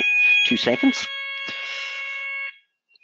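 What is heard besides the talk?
fire alarm test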